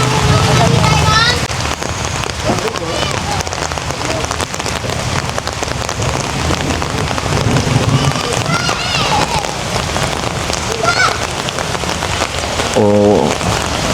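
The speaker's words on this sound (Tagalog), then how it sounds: "Murag mo kusog yun ang ulan." Heavy rain pours down in Margosatubig, Zamboanga del Sur, Philippines, near a roadside gas station, a dense continuous hiss of drops on surfaces with occasional voices beneath it.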